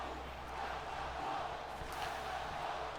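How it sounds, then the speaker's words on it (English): Faint arena crowd chanting in a WWE 2K23 wrestling video game, a distant steady roar of voices low in the mix. "And the crowd saying, "Welcome home, Bianca Belair.""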